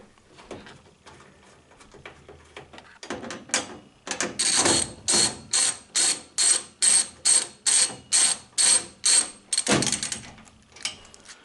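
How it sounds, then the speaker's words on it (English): A socket ratchet bolts down parts of a Harbor Freight Yukon 9-drawer mobile storage cabinet, giving a quick run of about a dozen loud, evenly spaced ratcheting clicks up close, preceded by some softer handling and fiddling. "I'll probably use a socket and a ratchet."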